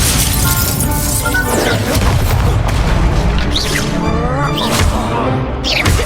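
The Incendio fire spell is cast in the video game Hogwarts Legacy amid a dense, loud battle of crashing, booming spell impacts and whooshes, continuous throughout with no pauses.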